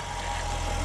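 A Jaguar XK RS with a European exhaust idles or runs low in a brief, steady, fairly quiet burst, a soft pulsing engine drone without talk.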